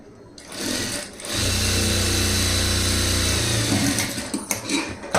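A sewing machine hums steadily and close as it stitches a border piece onto a blouse sleeve. The run lasts about three seconds, with a short start before it and clicks after it as it stops. No one talks.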